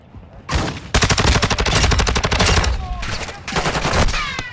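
Rapid automatic gunfire bursts in the Call of Duty MW2 DMZ video game, loud and close with sharp repeated cracks in dense volleys lasting several seconds.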